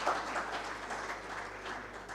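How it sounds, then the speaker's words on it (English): Conference audience at an insurance brokers' gathering in Uganda applauding, a steady patter of many hands clapping at moderate distance, fairly even throughout with no voices over it. "I think it deserves a big round of applause for Ibau setting the trend"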